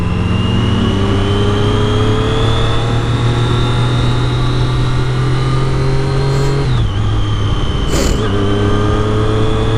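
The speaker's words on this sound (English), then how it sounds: "I love the sound of that triple." A 2015 Triumph Daytona with a triple-cylinder engine is ridden hard, its loud, close engine note holding a steady climbing drone before a quick gear change drops the pitch and then rises again.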